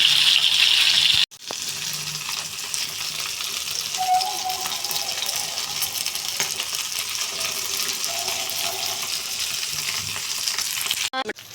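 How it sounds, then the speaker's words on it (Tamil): Fish frying in oil in a pan: steady, dense sizzling and crackling that holds close and loud the whole time, with a brief clatter near the start and again at the end as the pieces are turned. "நம்ம இப்போ வந்து இந்த மீனை திருப்பி போட்டு நல்லா பொரிய வச்சுக்கணும்"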